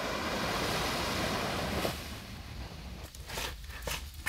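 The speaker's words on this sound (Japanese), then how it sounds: "すごい波があるのを見ると、そうだ、海って波があるんですよね、と思います" Ocean waves wash onto the shore at Hayama, a steady broad roar of surf with a soft rush of wind, and the swell grows and fades through the clip.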